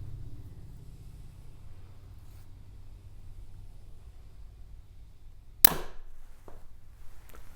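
A Hoyt Ventum 30 compound bow shoots an arrow through a chronograph, one sharp snap partway through over a faint low background rumble, followed by a softer knock.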